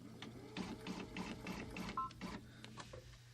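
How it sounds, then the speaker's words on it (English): An embroidery machine stitches a basting line to tack down fabric, a quiet rapid mechanical chatter with steady needle pulses over a low motor hum, close by and faint. "we want to stitch that basting line one more time"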